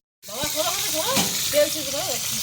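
Food sizzles steadily in hot oil as it is stirred while a boal fish curry cooks in a traditional village kitchen, a continuous close frying hiss under a voice talking throughout.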